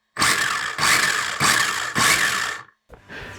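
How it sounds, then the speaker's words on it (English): A small brushless electric motor in an RC car whines up in four short, high-pitched bursts, each revving and cutting off, followed by a brief quieter rev at the end. "let's just listen to that engine go"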